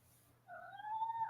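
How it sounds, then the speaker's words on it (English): A domestic cat chirps in the background of a quiet room, a faint rising tonal trill that starts partway through and holds steady to the end. "one of my cats is chirping in the background"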